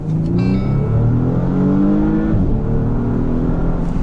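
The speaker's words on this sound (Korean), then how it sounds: "하이브리드지만 또 배기음도 나쁘지 않은데요. 잠깐 들려드리면은요" A 2020 Porsche Panamera 4 E-Hybrid exhaust drones steadily and loudly, engine pitch rising and falling slightly as it revs, with no speech.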